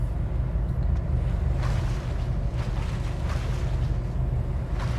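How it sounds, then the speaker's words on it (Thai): A character swims through water in the game CarrieVerse, with a steady wash of waves and sloshing water mixed with wind-like noise, continuous and fairly loud throughout. "เดี๋ยวผมว่ายน้ำก่อน"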